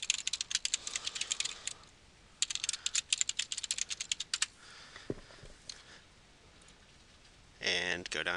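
Computer keyboard typed in quick clustered bursts of crisp clicks while entering login credentials, with pauses between bursts and a brief loud clatter at the end.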